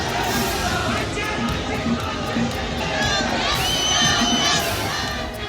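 At a packed political road show in Himachal Pradesh, a dense crowd chants and shouts slogans continuously, a loud, unbroken wall of voices with occasional higher cries rising above the din.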